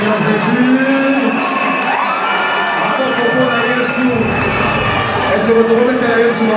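A big congregation at a church gathering cheers and acclaims, loud and sustained, with whoops and shouted voices blending into one continuous roar that stays close and full the whole time.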